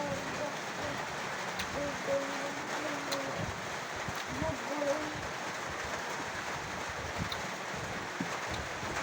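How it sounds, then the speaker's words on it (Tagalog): Steady rain falling outdoors on a gloomy, wet day, a continuous close hiss with faint wind, while people talk quietly underneath. "Baka maghapon po yung ulan ngayon."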